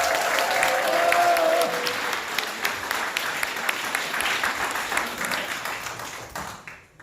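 Sustained applause from a crowd at a political party rally in Korea, dense and steady for several seconds before thinning out and fading at the end.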